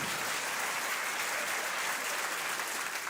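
Steady applause from a comedy-club audience at a stand-up show, dense and continuous clapping filling the whole stretch at an even level with no voices over it.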